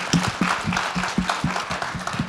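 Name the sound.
round of applause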